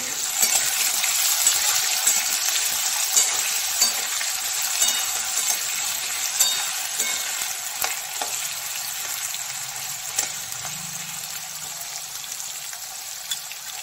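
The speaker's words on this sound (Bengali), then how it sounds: "আলুটা আরেকবার নেড়ে নিই।" Potatoes sizzle steadily in a pan with a little added water while being stirred for a vegetarian banana flower curry, a loud continuous frying hiss with faint scrapes and clicks.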